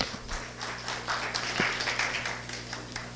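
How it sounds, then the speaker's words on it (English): Congregation clapping during a Wednesday church Bible study service, a moderate burst of hand claps in a room with a steady low hum underneath, fading toward the end. "Give a clap to Brother Sawa again."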